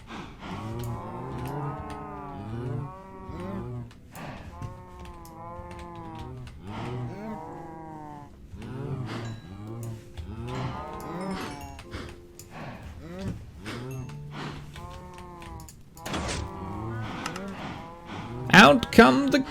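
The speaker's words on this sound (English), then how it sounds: "Out come the cows." Cows mooing in the Minecraft Java Edition 1.19.2 survival world, several low drawn-out calls repeating throughout alongside a person speaking, with a louder burst near the end.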